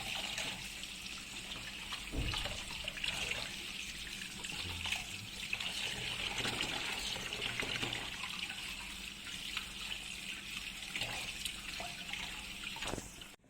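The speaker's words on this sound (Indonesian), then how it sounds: "setelah kita cuci dia dengan air mengalir, air pipe" Food, being rinsed of its salt, washed under a running kitchen tap, a steady broad rush of water with splashes and trickles throughout, close and continuous with no talk.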